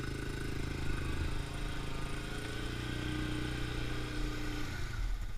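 The engine of a Yamaha Grizzly 550 ATV churns steadily while its wheels slip in deep mud, a continuous mid-pitched drone heard at moderate distance and fading slightly at the very end.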